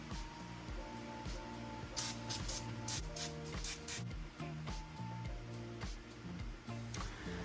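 A spray can hisses in a few short bursts onto motorcycle shock parts during a TrACTIVE shock install on a Triumph Tiger 900 Rally Pro, faint and close, over a steady tonal background hum.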